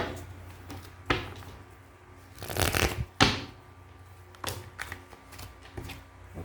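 Tarot cards are shuffled and handled at close range, with several bursts of riffling and soft taps against a steady low background hum, and no talk.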